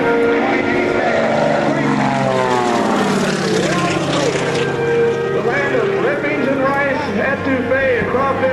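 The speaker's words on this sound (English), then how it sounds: "He gives us that in the form of that aileron roll on top of this big barnstormer loop." A barnstormer aircraft with carbon fiber wings performing an aileron roll atop a loop at an airshow, its propeller engine droning with shifting pitch, loud and continuous beneath an announcer's commentary.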